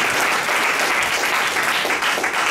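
Dense, steady applause from a conference audience in a hotel hall in Accra, Ghana, broad and sustained throughout with no voices rising above it.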